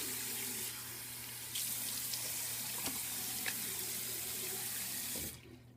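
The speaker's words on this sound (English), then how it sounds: "Time for a rinse." Faucet water runs steadily into a sink as a razor is rinsed between shaving passes, a loud continuous splash with a few clinks against the basin, ending as the tap shuts off.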